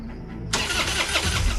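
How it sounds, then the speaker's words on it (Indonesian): A car engine cranks briefly and then catches, bursting into a loud, close roar that settles into a rough running note. "ternyata mesin mobilnya sudah bisa menyala"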